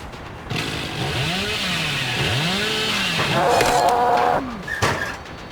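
The Hillbilly's chainsaw in the Dead by Daylight video game revs up and down in repeated rising and falling surges, loud and continuous, ending with a sharp crash and game noises.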